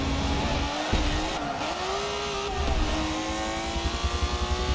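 A Ferrari race car in the Forza racing game roars loudly and close, its engine revving and shifting pitch as it accelerates, with a brief tire squeal and no talking.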